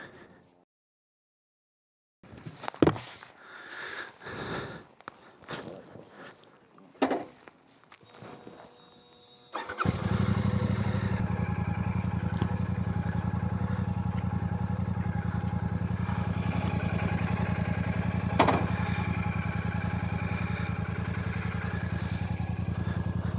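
A Royal Enfield Classic 650 motorcycle sits idling nearby after some footsteps and clattering handling sounds, its engine settling into a steady, deep, even rumble that continues for over ten seconds.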